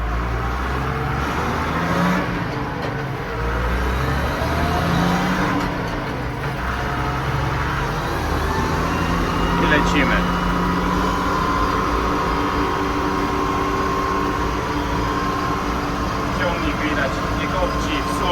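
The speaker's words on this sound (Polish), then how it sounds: "No dźwięk tego ciągnika, tych starych silników Case'a, to jest coś" An old Case tractor engine runs steadily with a deep rumbling drone throughout, heard up close, while someone talks over it.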